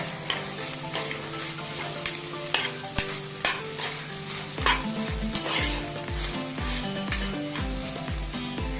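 Salt is stirred into a sizzling Goan fish dish in the pan, loud frying hiss under a run of rhythmic scraping stirs and clacks, close up, no speech.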